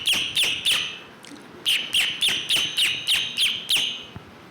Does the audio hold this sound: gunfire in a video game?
no